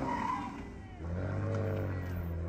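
A car in a failed attempt at donuts with traction control engaged and an open differential, its engine droning low and steady with a brief tire chirp, loud and close over the whole stretch.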